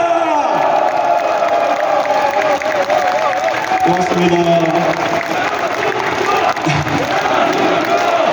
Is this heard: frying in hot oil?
no